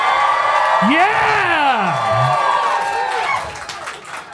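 A live audience at a talk cheers, whoops and shouts when prompted to make noise, with one rising whoop rising over the crowd's roar before it fades out.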